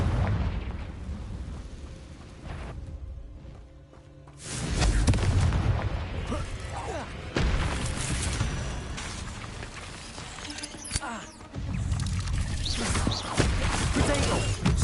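Blasting spell explosions in the Hogwarts Legacy video game: several heavy booms and bursts over a low rumbling game soundscape, with a quiet lull before the first big blast.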